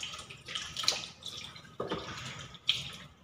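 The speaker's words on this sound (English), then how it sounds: "Then, rinse thoroughly." Water splashes and pours while a baby is rinsed during a bath, with irregular bursts of running water and small splashes up close, no talking.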